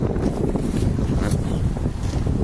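A Hurley 20 sailboat under way on the Clyde in an easterly wind: steady wind rush and microphone buffeting over the hiss and slap of water along the hull, continuous and close, with no talk.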